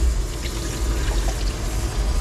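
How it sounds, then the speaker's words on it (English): Water for coffee pouring in a steady, continuous stream, a moderately loud liquid rush with no talk over it. "That's my coffee water."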